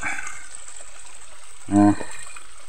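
A small rural stream in the province flows with a steady soft rushing and trickle close by. A brief low hum or voice-like sound rises over it near the end.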